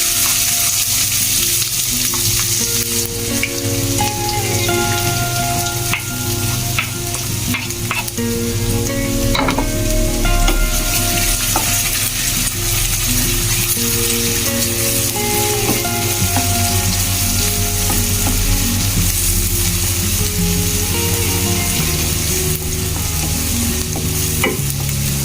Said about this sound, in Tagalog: So, gisa na natin ang luya.